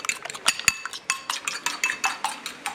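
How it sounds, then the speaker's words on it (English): A whole egg plus an extra yolk beaten in a bowl for carbonara, the whisk or fork clinking against the sides in a quick, uneven rhythm of sharp taps, close and clear with no talking. "I'm going to beat this egg, 1 full egg and the yolk"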